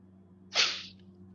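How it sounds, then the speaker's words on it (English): A single sharp human sneeze, brief and close, rising suddenly out of a quiet background with a steady low hum. "I didn't mean to sneeze."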